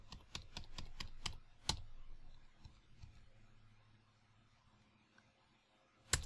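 A password typed on a computer keyboard during a Kali Linux install: a quick run of about seven close key taps, then a single louder keystroke, a quiet stretch, and one final key press.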